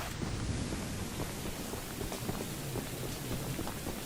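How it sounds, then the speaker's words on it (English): Heavy rain in a spooky video game, heard muffled from under a roof shelter, a dense steady hiss of rainfall with a low rumble, continuous and fairly loud, with no talk. "you hear how the rain is muffled because we're under here?"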